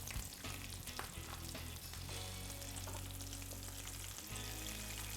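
Potato puree patties fry in a pan, giving a loud continuous sizzle and crackle with stirring scrapes throughout, as the food is flipped to cook the other side.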